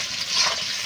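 Cumin seeds hitting hot oil for a Bengali chicken and potato curry, giving a steady bright sizzle and crackle that holds close and loud for under a second with no voices.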